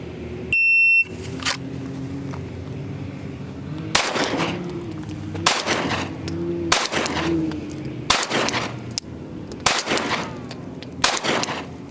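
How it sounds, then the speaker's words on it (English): A timer buzzer sounds first, then a handgun fires six rounds at a target seven yards away on an outdoor range. The sharp, loud shots come at uneven intervals about a second apart. "fire 6 rounds, 7 yards out, and you're going for the alpha zone"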